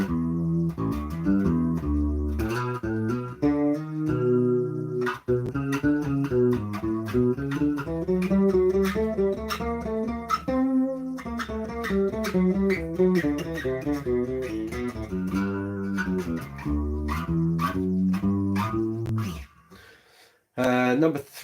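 Electric guitar played through an effects pedal, a long run of melodic notes and chords with a processed, modulated tone.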